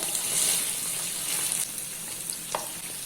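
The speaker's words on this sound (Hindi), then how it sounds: "अभी इसमें कटे हुए ऑनियन ऐड कर देते हैं" Chopped onions dropped into a pan of hot oil with ginger garlic paste and spices for a soya keema, giving a steady close sizzle and frying hiss throughout, with a brief stir near the end.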